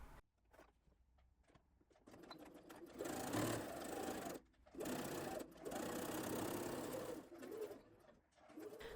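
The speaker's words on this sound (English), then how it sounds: "stitch the first row of stitches close to the edge of the inner fold" A sewing machine runs close by stitching a sleeve hem, its bursts of rapid stitching starting and stopping, with soft pigeon cooing in the background.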